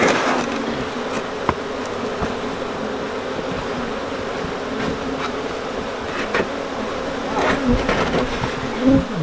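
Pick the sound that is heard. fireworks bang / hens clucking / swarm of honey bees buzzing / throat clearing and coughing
swarm of honey bees buzzing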